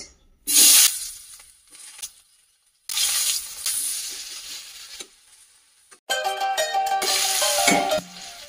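Onions dropped into a pan of oil after fish has been fried, giving bursts of loud sizzling with quieter gaps and stirring, then a strong steady sizzle near the end.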